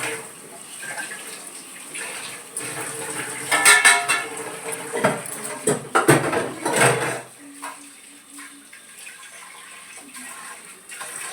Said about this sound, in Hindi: उसमें का जो खाना वाला बर्तन था, तो वही मैं सब धुल के साफ़ करके रख रही थी